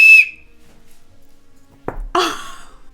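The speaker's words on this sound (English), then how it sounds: "I wasn't expecting the whistle to be like an actual whistle" A short, sharp whistle blast from a replica Harry Potter toy whistle sounds at the start, followed by quiet, then breathy exhales and a gasping sound.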